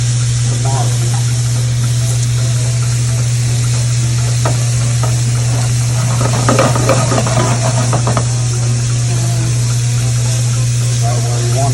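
Shrimp frying in a pan for Creole-style voodoo shrimp, giving a steady, loud sizzle throughout, with stirring and clatter from utensils partway through over a constant low hum.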